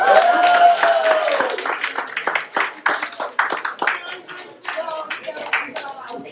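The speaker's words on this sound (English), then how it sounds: "so another round of applause" Audience applause after a student performance at a school expressions showcase, a moderately loud crowd of hands clapping in uneven bursts that fade and swell, with some voices mixed in.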